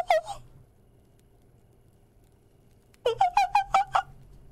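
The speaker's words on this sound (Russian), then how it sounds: "Это звук птиц" Bird calls in the video game Secret Neighbor: a single short warbling chirp, then after a pause a run of about six quick repeated chirps, loud and close against a quiet background.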